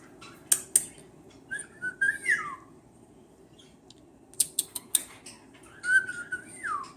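A young Pearlie-Pied Lutino cockatiel, about three and a half months old, gives two short rising-and-falling whistles while preening, with sharp little clicks and beak taps in between, close and fairly soft.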